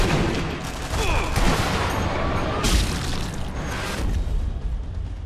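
Gunfire from the World War II shooter Sniper Elite V2 during a battle at a Kreuzberg headquarters, with dense, overlapping loud shots and bursts rattling continuously through the whole stretch, no voices.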